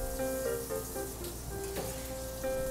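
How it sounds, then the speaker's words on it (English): Clarified butter sizzles in a hot skillet, a soft, steady crackle and hiss that stays fairly faint and even, with no one talking. "So what we have is a little clarified butter going into a hot skillet"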